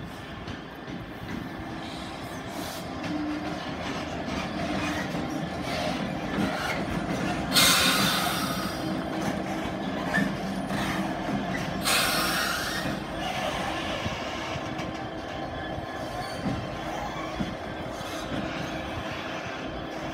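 Steady rumbling of trains moving through Ipswich station, a continuous low roar with a couple of brief hissing bursts partway through.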